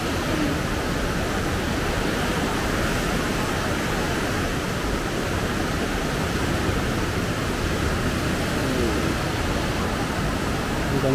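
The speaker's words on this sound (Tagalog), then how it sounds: "Grabe, ang lakas ng ano, agos ng tubig." Powerful river current rushing through the narrow rock walls of the Aareschlucht gorge in Switzerland, a steady, loud broadband roar of churning water that holds constant throughout without pause.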